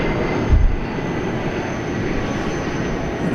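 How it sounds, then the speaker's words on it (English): An American Airlines A321 airliner at DFW airport, a steady, loud jet engine roar that fills the scene with one brief low thump near the start. "American Airlines A321 got caught in the headlights of the A300 there for a second."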